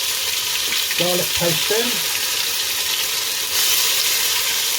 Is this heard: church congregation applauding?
no